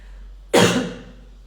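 One single close, sharp cough bursts out abruptly and fades quickly into quiet.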